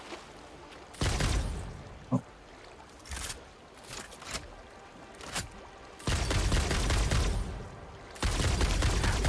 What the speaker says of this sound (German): für die Dinger brauche ich hiermit deutlich mehr Schüsse als mit dem anderen